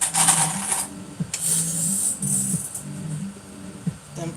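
A sewing machine runs a basting stitch on a McCall's 8193 cosplay garment in several short bursts with brief pauses between them, a steady mechanical whir close by.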